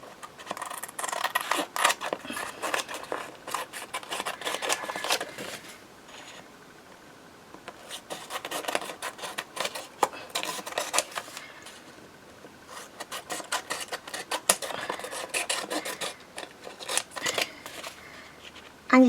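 Scissors cut through greeting card stock and book pages up close, giving repeated crisp snipping and rasping strokes in irregular clusters, with short quiet gaps between runs of cuts.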